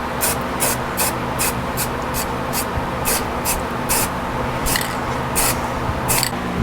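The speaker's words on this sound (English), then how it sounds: "I'm just going to spritz this on here. I'm not going to go crazy with this paint." Spray paint is spritzed onto a Les Paul guitar body in about a dozen short, sharp hissing bursts over a steady low hum, close and clear, and no talking.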